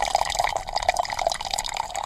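Tea pours from a teapot into a cup with a steady liquid splash and trickle that runs the whole time, close and fairly loud, with no talking.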